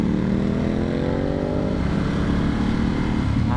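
A motorcycle engine revs loudly nearby, its pitch rising then dropping into a rough, throbbing idle.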